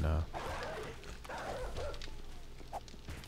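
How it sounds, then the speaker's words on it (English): A dog barks and yips faintly in the 7 Days to Die survival game at night, low in the mix beneath a person talking. "Apparently we have a dog that always spawns up here."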